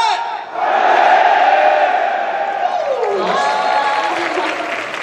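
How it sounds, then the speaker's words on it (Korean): Soldiers at a military day event in Hongcheon give a loud, sustained cheering shout in unison, a dense crowd roar that swells and holds for several seconds before tapering slightly. "정말 이 함성 소리가 화합의 힘을 느끼게 해줍니다"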